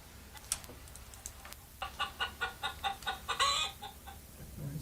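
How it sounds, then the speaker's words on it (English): Chickens clucking, played back from a phone or video into a microphone in a room, a quick run of about ten rhythmic clucks at low volume. "We're gonna listen to chickens."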